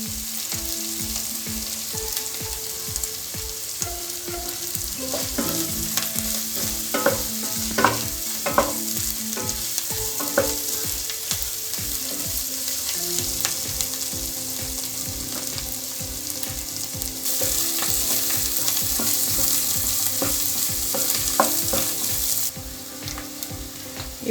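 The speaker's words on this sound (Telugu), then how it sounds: "కొంచెం పచ్చివాసన పోయేంత వరకు కొద్దిగా ఇలా ఫ్రై చేసుకుందాం." Masala with coriander leaves frying and being stirred in a pan for a country chicken curry, a loud continuous sizzle with a steady rhythmic scraping of the spoon throughout.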